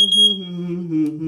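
A Ventek/Visual Alert FA100 smoke alarm with strobe sounds a steady, close electronic tone, holding one pitch with slight wavering for just over a second, alone with no talk.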